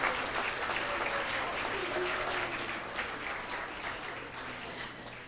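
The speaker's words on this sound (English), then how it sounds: "Get another round of applause," Steady audience applause at an outdoor Arbor Day school event, a dense continuous wash of many hands clapping that holds for several seconds and slowly eases, with a low background hum.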